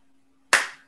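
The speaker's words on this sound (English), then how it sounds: "You have to clap." A single sharp hand clap lands at a memorial ceremony as a demonstration, loud and close after near silence with a low steady hum underneath, then decays quickly.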